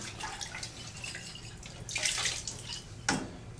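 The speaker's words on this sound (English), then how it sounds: "Take it, put it in the rinse water" A glass bottle is dipped into a basin of rinse water during cleaning, giving a few soft splashes and sloshes with a louder dunk near the end, quiet and close.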